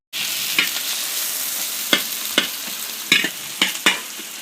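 Potatoes fried and stirred in a pan for a Bengali aloo kosha: a steady, close sizzle runs throughout, broken by about half a dozen sharp scraping stir strokes at uneven intervals.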